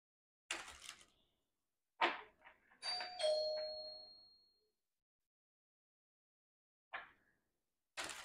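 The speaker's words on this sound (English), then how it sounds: "Sorry about the doorbell." A doorbell chimes in a few separate bursts, one tone ringing out and fading, with quiet gaps between presses.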